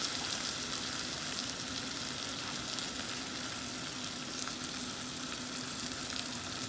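Tomato sauce frying in a pot with toasted noodles, a steady dense sizzle throughout with no talk.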